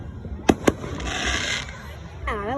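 Fireworks at an outdoor show: two sharp, loud bangs close together, then a long crackling, hissing burst. A voice is heard near the end.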